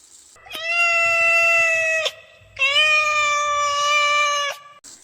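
Two long, clear cat meows, the first about two seconds and the second slightly longer, separated by a short pause and close up.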